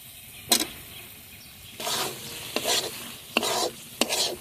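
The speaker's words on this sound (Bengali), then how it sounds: "টমেটোটা মশলার সঙ্গে ভালোভাবে কষিয়ে নেব" Chopped tomatoes stir-fried with ground spice paste in a pan: a spatula scrapes and stirs in several distinct bursts, with a soft sizzle underneath, close and fairly loud, no talking.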